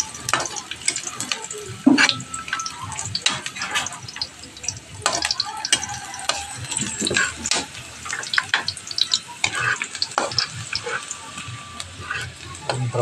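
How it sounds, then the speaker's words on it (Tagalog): Garlic and onion brown in a pan for chicken adobo with vegetables, a steady sizzle broken by sharp clinks and scrapes of a spoon stirring, close and fairly quiet. "Brown natin yung bawang at sibuyas para malinamnam lumabas yung mga aroma niya guys"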